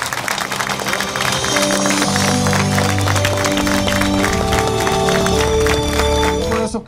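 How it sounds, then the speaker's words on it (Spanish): A crowd applauds loudly at a public event in Álamos, steady clapping and cheering running under prominent music, with talk mixed in. "Un fuerte aplauso a esta entrega."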